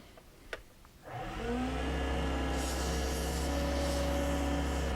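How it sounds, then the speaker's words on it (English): A slimline pen spins on a lathe while sandpaper is held against it, a steady whirring hum with a rubbing hiss that starts after a second and holds evenly, close and with no talking. "I would hold the sandpaper like this on top, because that way most of the sawdust goes away from it."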